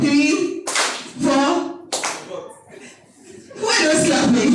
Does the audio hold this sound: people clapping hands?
yes